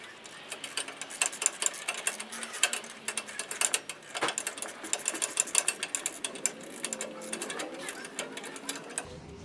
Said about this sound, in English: you want to start by tightening the one going forward into the frame